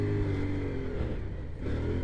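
A CFMOTO Ibex 450 motorcycle rides through soft sand, its mid-pitched engine droning steadily with slight dips and surges, fairly close and unaccompanied by talk.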